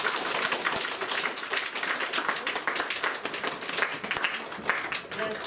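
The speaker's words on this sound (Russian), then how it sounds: "Ваши аплодисменты." A crowd applauds at a lyceum initiation ceremony, dense, even clapping that continues for several seconds at moderate loudness, with no clear speech over it.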